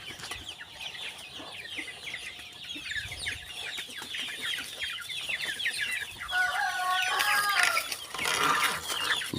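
Native chickens cluck and chatter in a busy, continuous flock, with louder overlapping calls and squawks building toward the end.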